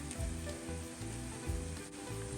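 Onions with whole garam masala spices such as cardamom, cloves, bay leaf and peppercorns fry in a pot, a close, dense sizzle with rhythmic low scraping pulses from stirring.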